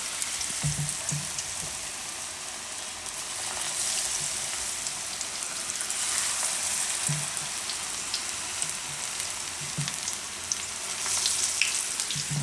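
Pea and potato pakoda batter frying in hot oil gives a steady, moderately loud sizzling hiss throughout, with a few soft bubbling pops and no voices.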